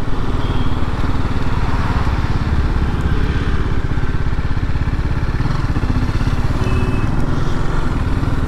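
A TVS Apache RTR 310 motorcycle engine runs steadily and loudly up close, a continuous throbbing mid-pitched drone with rapid firing pulses that holds throughout with no talking.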